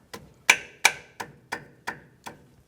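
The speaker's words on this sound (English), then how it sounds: "Using a 12mm line wrench, I'm going to loosen up the brake line right here." 12mm line wrench working on a brake line fitting of a 2011-2018 Ram 1500, seven sharp metallic clicks in an even ratcheting rhythm, close and crisp, with no voices.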